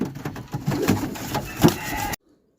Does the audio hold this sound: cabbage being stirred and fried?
no